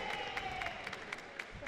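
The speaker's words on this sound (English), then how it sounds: "Much to the applause of the faithful" Home fans applaud at a women's college basketball game between Mohawk and Niagara, a steady clatter of clapping with scattered cheers filling the gym, moderately distant and continuous.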